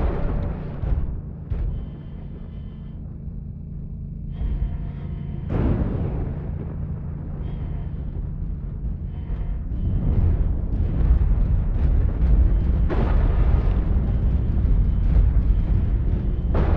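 Airstrike explosions in MechWarrior Online, a series of heavy booming blasts and rumbles striking one after another with loud bursts near the start, middle and end, no talk over them.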